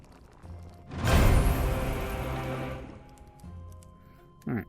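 A broad splashing gush of water being poured onto porridge in the VR game Innkeeper, swelling loudly and lasting about two seconds before tapering off, with a low hum beneath and a brief knock at the end.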